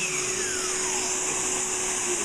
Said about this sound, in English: So that vac's running right now.